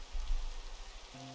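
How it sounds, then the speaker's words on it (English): Rain falling in the Minecraft video game, a soft steady hiss that stays faint and continuous through the short span, with no voices. "Oh, it's raining."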